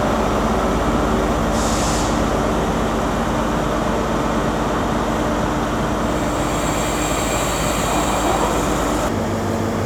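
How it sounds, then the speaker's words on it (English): ScotRail class 385 electric train departing Glasgow Queen Street, a steady broadband rumble and whine filling the whole stretch, with a brief hiss early on and a higher tone building before an abrupt drop near the end. "Okay, I think now we're getting ready to depart the 385009 with the 1225 ScotRail service to Falkirk Grahamstone."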